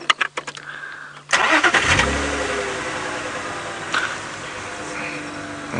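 Safari vehicle's engine on an early-morning game drive catches after a few faint clicks, then settles into a steady, close mid-pitched running hum that continues alone with a slight rise near the end.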